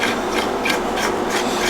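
Metal muzzle brake being screwed by hand onto the threaded barrel of a Savage 110 rifle, giving a close, continuous gritty rubbing and rasping with faint rhythmic pulses.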